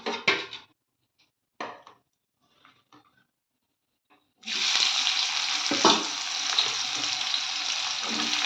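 Parboiled potatoes fry in a pan for meat curry: a few brief stirring scrapes and taps, then a loud, steady sizzle of frying that rises and holds to the end, with an occasional utensil clink.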